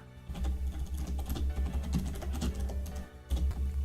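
Fast, steady typing on a computer keyboard, a dense run of light clicks over a low hum with a short pause near the end before the keys resume.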